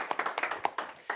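Sparse, quiet handclaps from a small audience at a challenge prize ceremony, roughly ten distinct claps scattered unevenly across a brief moment.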